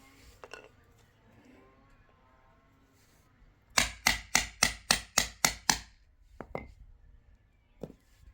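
Seven sharp, evenly spaced metal strikes land on a custom high fender mount for an Aprilia Tuareg 660, clamped in a vise. The blows come in one quick, loud burst, with faint knocks and rustling before and after.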